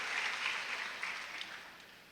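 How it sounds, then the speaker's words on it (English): Applause from a graduation audience at an 8th grade ceremony, a steady broad wash of clapping held at moderate, somewhat distant level for about two seconds with no speech over it. "Give Ms. Hudson a round of applause."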